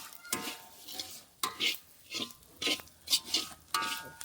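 Cumin seeds dry-roasting in a pan for Maharashtrian black masala, stirred in short scraping bursts about every second, close and fairly quiet, with a faint crackle between strokes and no talking.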